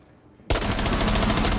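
Automatic weapon fire erupts suddenly in a Rainbow Six Siege match, a loud, dense stream of rapid shots that continues without pause after a brief quiet moment.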